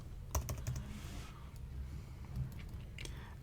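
Typing on a computer keyboard: a few quick, soft clicking keystrokes in short clusters, quiet and close, with no voices.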